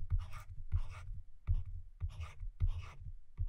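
A number is written out by hand, with a pen or marker scratching and tapping on a surface in short repeated strokes, close and clear, in bursts about half a second apart, and no talking.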